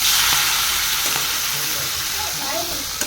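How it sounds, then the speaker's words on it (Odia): Prawns frying in hot oil, a steady loud sizzle and crackle close up, with faint stirring sounds and no talk. "ମୁଁ ଏଠି ଚୁଙ୍ଗୁଡ଼ି ଭାଜୁଛି"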